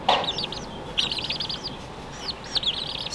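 Baby chicks chirp in a brooder, a cluster of high, quick peeping calls repeating in short bursts over steady low background rumble.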